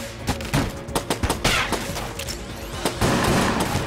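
Rapid gunfire from the video game Enter the Gungeon sounds as a steady stream of sharp, punchy shots and impacts, layered over busy game music and effects.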